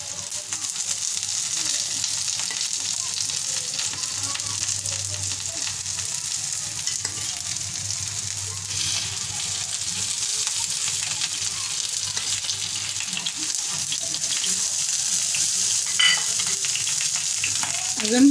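Corn appe batter fries in oil in an appe pan, giving a steady, close sizzle with a bright crackling hiss that holds evenly throughout, without any talk.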